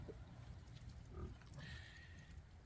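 Pigs on a rainy, muddy farm give a few faint grunts and snorts, low and somewhat distant, over a steady background hiss.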